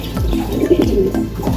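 A racing pigeon at a derby coos softly and close by in short repeated throaty pulses, with a faint watery background.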